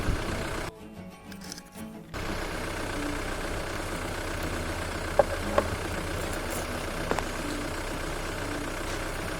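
A Jaguar X-Type engine idles steadily after a jump start from a Skoda Fabia, a constant low hum close by, with a brief dip and a couple of faint clicks.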